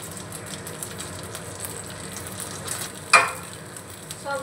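Prepared snacks dropped into a pan of spices and Kashmiri chilli powder, giving a steady low sizzle with one brief sharp clatter near the end, close and with no talk.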